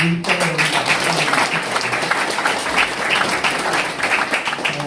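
Applause from a gathering in a party meeting hall in Incheon, dense steady clapping filling the room for about five seconds, close and loud with no talking over it.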